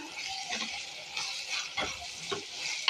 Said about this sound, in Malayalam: നമുക്കതിലോട്ട് കുറച്ച് ഇഞ്ചി വെളുത്തുള്ളി പേസ്റ്റ് ഇട്ട് കൊടുക്കാം. ഇളക്കി കൊടുക്കാം.